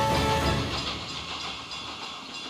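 A train roaring past in a tunnel, a loud, dense rumble and hiss that starts close and full, then slowly fades and thins out, with no voices over it.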